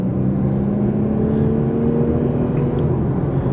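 A 2022 Infiniti Q50 Sensory with a 3.0L engine and all-wheel drive accelerating hard from the cabin, a steady loud engine drone with a rising tone and road roar, no talking.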